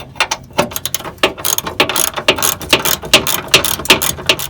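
A hand ratchet tightens tow hitch bolts on a 2005-2015 Toyota Tacoma standard cab, producing rapid, close, repeated clicking strokes in irregular bursts.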